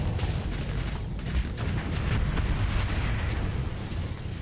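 Ship weapons firing during a space battle with a fast pirate cruiser in Starsector: a continuous roaring barrage of overlapping explosive booms and bursts, loud and dense throughout, with no talk.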